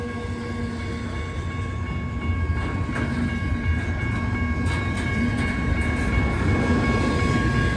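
A train rumbles past on an elevated curve, with steady mechanical drone and faint clattering of wheels, fairly close and growing slightly louder.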